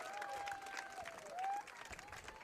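Family spectators at a girls' high school soccer game make a faint, distant murmur of crowd noise with scattered claps and a thin whistle-like tone drifting over it.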